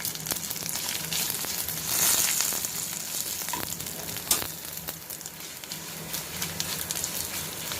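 Curry leaves and dry red chillies sizzle and crackle in hot tempering oil for a toor dal saaru, a steady close frying hiss with sharp pops scattered throughout.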